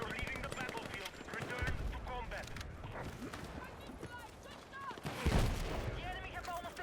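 Full-auto LMG fire in Battlefield 6, dense rapid bursts of gunfire with a heavy crack near the five-second mark, running under continuous game talk.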